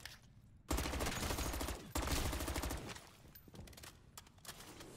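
Turret gunfire in MW3 Zombies: sustained bursts of rapid automatic shots, loud and close, with a brief pause before firing resumes, then fading to scattered shots.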